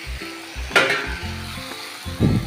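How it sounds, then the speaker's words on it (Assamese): Turmeric, salt and cumin powder sizzle in a hot pan while being stirred, with spatula scrapes and clinks against the metal in short bursts over a steady frying hiss. "এতিয়া হালধি, জিৰা গুড়ি আৰু নিমখ এনেকৈ দি কিছু সময় এনেকৈ লৰাই আছোঁ।"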